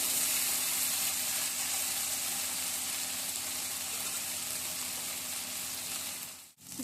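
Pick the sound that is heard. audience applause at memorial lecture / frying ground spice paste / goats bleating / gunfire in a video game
frying ground spice paste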